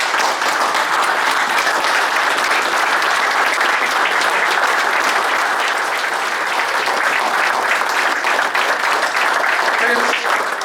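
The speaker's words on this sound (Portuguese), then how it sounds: "que nos levantássemos e que batêssemos palmas em honra daquela pessoa que memoriza todo este movimento" A standing audience at a June 6 commemoration held in a hotel breaks into loud, dense, continuous applause, an unbroken wall of clapping that lasts throughout without a pause.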